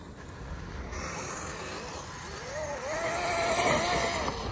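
A Traxxas Maxx Slash RC truck at full throttle on loose grass, its electric motor giving a steady whining drone with a rising, wavering pitch that swells louder toward the end, no talk.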